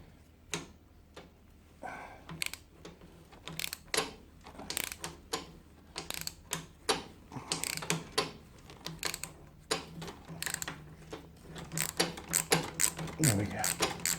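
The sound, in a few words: 1/4-inch drive ratchet loosening tight bolts on GSXR750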